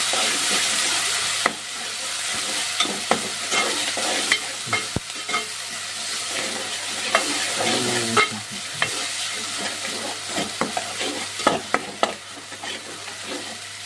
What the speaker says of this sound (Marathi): थोडं आपण परतून घेऊ आपण आपण परतून घेतो